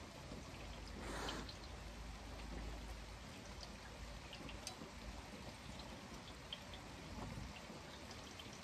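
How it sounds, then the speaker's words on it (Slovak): Light rain patters steadily nearby, a soft continuous hiss of drops on surfaces with a few brief louder splashes and no talking. "Mierne prší."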